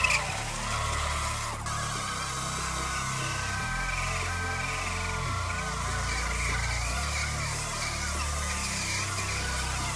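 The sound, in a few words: burnout on an electric mountain board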